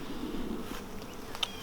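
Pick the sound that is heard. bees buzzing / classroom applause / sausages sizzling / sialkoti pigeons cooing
bees buzzing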